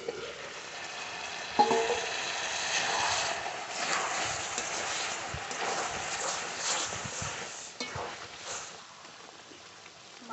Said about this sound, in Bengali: ঢাকনা তুলে নেড়ে নেবো